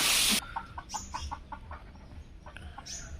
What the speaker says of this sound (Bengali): মুরগিগুলো ঘর থেকে ছাড়া পেয়ে এখন খাওয়া দাওয়া করছে বাইরে ঘোরাফেরা